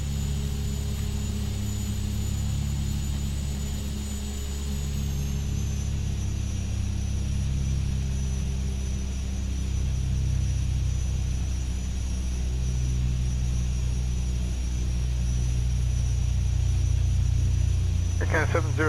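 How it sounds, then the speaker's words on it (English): A Beechcraft B200 twin turboprop in X-Plane 11 rolls for takeoff, a steady loud engine rumble and hum with a high whine that dips in pitch, continuing unbroken to the end. "I'll just take off here. I don't need all this runway."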